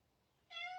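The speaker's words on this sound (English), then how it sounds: "That's a cat." A cat gives a single short meow near the end, rising suddenly out of quiet indoor silence, soft and close.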